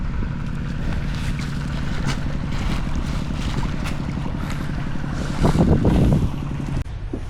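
Strong wind roars steadily across the microphone outdoors, a loud continuous rush with a brief gust swelling late on before easing.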